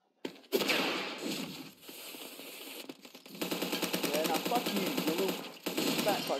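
SMG fire in the ev.io shooter game: rapid continuous automatic bursts rattling loudly over several seconds, with someone shouting over the gunfire.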